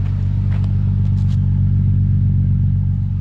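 A Nissan 350Z engine idles steadily after an idle relearn, a loud, close, even low rumble that holds without change and has no talk over it.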